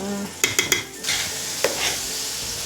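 Cooked rice tipped out of a pressure cooker into a pan on a home stove, with a few sharp metallic knocks and scrapes followed by soft rustling and a faint sizzle.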